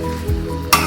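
Pasta and mixed vegetables being stirred together with white sauce in a pan, giving a soft continuous sizzle and scraping with one sharper clink of a utensil against the pan near the end.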